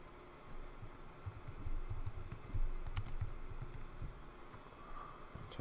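Quiet keystrokes patter on a computer keyboard while text is entered for a notepad design in Adobe InDesign, irregular light clicks in short bursts close by with a low room hum underneath.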